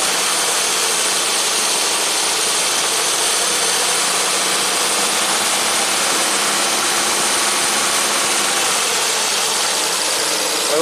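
A long-parked 1967 Triumph GT6 engine runs steadily with its RPMs held raised, a loud, continuous broadband roar and whine without a break, close by and with no talking.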